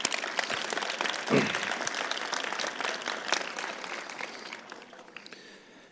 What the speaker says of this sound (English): giving Mother Nature a big round of applause for the day